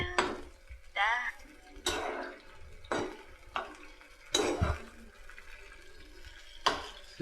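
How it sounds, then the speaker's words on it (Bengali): Tomato, ginger, garlic and chili masala frying in a pan, with repeated sharp stirring scrapes and clatters of a utensil against the pan over a continuous sizzle, close and moderately loud. "দেখতে পাচ্ছেন আমরা ওটা ফ্রাই করে নিচ্ছি"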